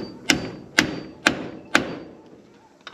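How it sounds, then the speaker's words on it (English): A hammer with a welded-on steel handle strikes metal four times in an even rhythm, each blow a sharp, close, ringing thud that decays quickly, with no talking. "I welded it on there and that thing's it's a good hammer now."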